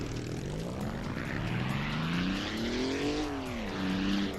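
A nine-cylinder radial engine car in the BeamNG driving game roars loudly with a droning, aircraft-like tone that swells as it revs up and then eases back down, sustained throughout without talk.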